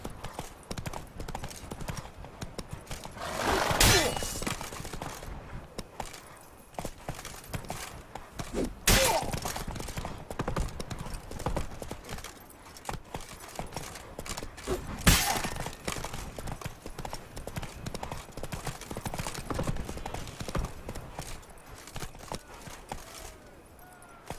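Hooves of Roach, a horse in The Witcher 3: Blood and Wine, clip-clop at a steady gallop throughout, with a few sharp louder thuds and clatters standing out over the running rhythm.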